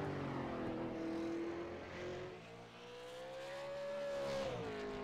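A single race car on a qualifying lap at Southern National Motorsports Park, its engine tone droning steadily, then dipping and climbing again as it revs back up, heard from a distance and fairly faint.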